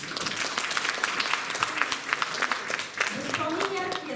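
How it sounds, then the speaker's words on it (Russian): A philharmonic concert audience claps steadily in sustained applause after an orchestral performance, dense and even, with a voice speaking briefly in Russian toward the end. "ваши аплодисменты"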